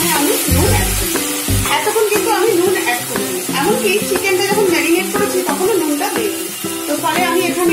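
Chicken frying in a pan with tomato puree being stirred in, a steady sizzle with scraping stir strokes, mixed with louder background music and some voice throughout.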